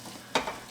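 A spoon scrapes once through brown roux in a hot pan, giving a short swish over a low, steady sizzle, close and brief.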